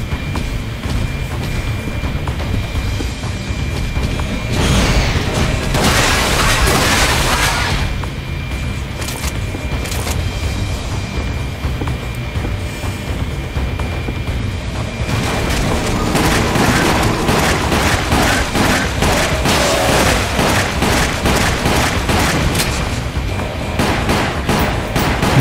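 Grenade explosions in the game Resident Evil Umbrella Chronicles: loud, dense booms and crackling blasts that layer over a constant rumble of combat sound, with two heavier bursts.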